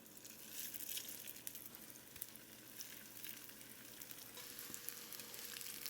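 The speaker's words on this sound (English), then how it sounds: "Okay, into the oil," Pieces of beef frying in oil, a faint but steady crackling sizzle with scattered pops, heard close with no one talking.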